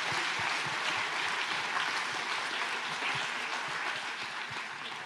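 Steady applause from a conference audience for discussion moderators, a dense wash of many hands clapping, fairly distant and even throughout with no voices.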